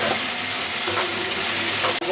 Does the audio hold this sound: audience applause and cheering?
no